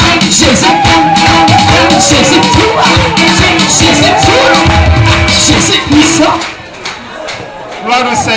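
A church congregation cheers and acclaims loudly, a dense mass of voices with yells and whoops sustained for several seconds before tapering off, then rising briefly again near the end.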